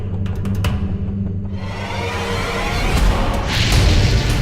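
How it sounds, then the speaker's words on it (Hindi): Diwali firecrackers go off outside: a rapid cluster of sharp cracks at the start, then a deep rolling boom with a whooshing swell that grows louder toward the end. "अब दिवाली के पटाखे कौन फोड़ रहा है बाहर?"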